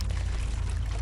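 Water pours out steadily in Metel Horror Game Chapter 3, a brief dense splashing gush heard alone.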